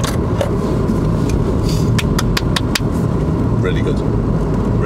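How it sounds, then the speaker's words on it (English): A car engine runs steadily at low pitch during a driving lesson, with several short sharp ticks in the middle and a faint high chirp near the end. "Have a listen to your engine."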